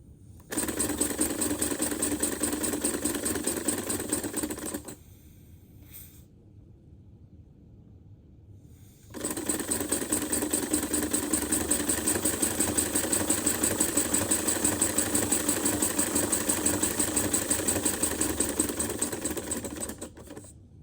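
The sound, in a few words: Lego pneumatic engine running on air duster can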